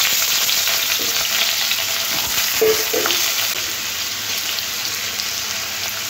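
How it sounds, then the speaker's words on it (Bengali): Potatoes frying in a little oil in a pan, a loud continuous sizzle with occasional stirring scrapes, close up and steady throughout. "আলুগুলো দিয়ে আলুগুলো একটু লাল লাল করে ভেজে নেব"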